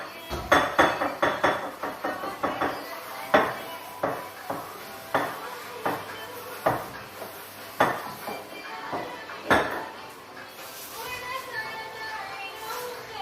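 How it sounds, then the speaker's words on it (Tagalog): Dishes being washed: plates, pots and cutlery clatter and clink in a quick, uneven string of sharp knocks close by, with children's voices faintly in the background. "isa hugas ng plato"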